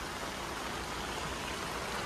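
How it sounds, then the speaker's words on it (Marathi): Heavy rain falls steadily in Pimpalgaon, a soft, even hiss of water with no breaks and no voices, heard faintly and evenly throughout. "फुल पाऊस चालू आहे मित्रांनो"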